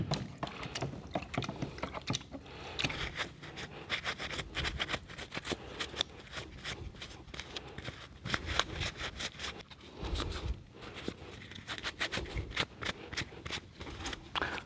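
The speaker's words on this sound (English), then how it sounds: "I'm just going to give that a really good dust. Next fact, I'm going to dip that in the" A chainsaw air filter is dipped and swished in petrol, giving close, irregular sloshing and splashing bursts that come in quick clusters with short pauses between, with no talk.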